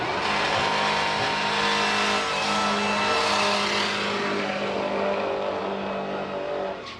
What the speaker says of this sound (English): First burnout of the day that crosses the centre line